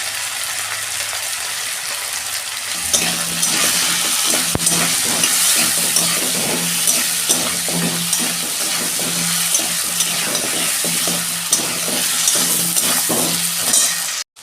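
Potatoes frying in hot oil in a home kitchen, a continuous loud crackling sizzle that starts a few seconds in, with occasional utensil scrapes and stirring over a low steady hum.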